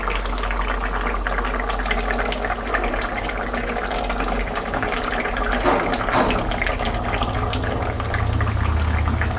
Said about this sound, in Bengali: বাটিটা ধুয়ে একটু জল দিয়ে দিচ্ছি।